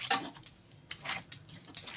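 A spoon stirring coriander leaf pickle in a pan with the gas turned off, giving a quick, uneven series of scrapes and light metallic clicks, close and fairly quiet.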